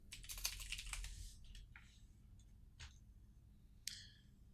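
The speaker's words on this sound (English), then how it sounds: "You type that into Google." Keys clatter on a computer keyboard as a search is typed into Google, a quick run of quiet, close taps followed by a few scattered keystrokes, soft and low in level.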